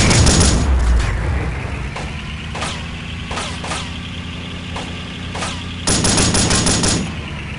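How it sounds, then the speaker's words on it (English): Heavy automatic gunfire in Delta Force: Black Hawk Down, loud and sustained, with bursts of rapid shots and sharp cracks punctuating a constant battle roar. "There's too much fire."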